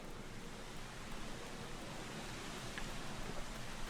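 Steady rainfall outdoors in Final Fantasy XIV, in the North Shroud area, a constant even hiss of rain at moderate level with no voices.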